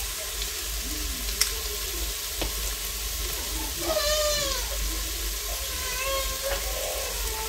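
Garlic sizzles in a pan at close range while cooking for split pea and ham soup, a steady crackling fry with a brief clink and faint background noises.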